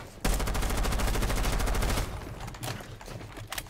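Gunfire in the tactical shooter Rainbow Six Siege: a loud, sustained burst of rapid automatic shots for about two seconds, followed by a few scattered single shots.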